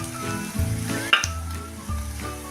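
Onion-garlic chutney fries and sizzles steadily in hot oil in a pan, a continuous close crackle with a few louder spits and stirring scrapes, no voices.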